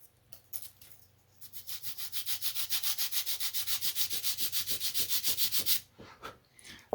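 Sanding the balsa tailplane tips of a model aircraft gives a steady run of about twenty quick, even rubbing strokes, close and fairly loud, followed by a few softer scrapes.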